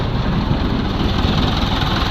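Misfiring engine, freshly overhauled and blowing white smoke, idling close by with a steady, rough low rumble and no talk.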